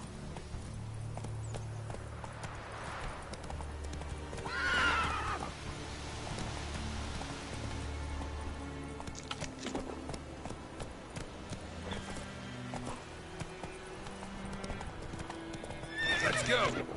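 A horse in The Witcher game runs with rhythmic hoof clip-clop and a whinny or two, layered over game music and someone talking.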